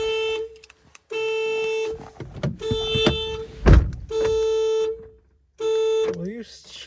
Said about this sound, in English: I just set off my car alarm